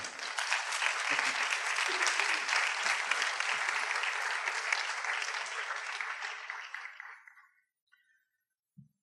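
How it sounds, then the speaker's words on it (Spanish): An audience at a master class on the Bad Bunny phenomenon applauds a speaker, dense steady clapping that holds for several seconds, then tapers off and stops, leaving near silence. "Un aplauso para Ángel Rodríguez Rivera."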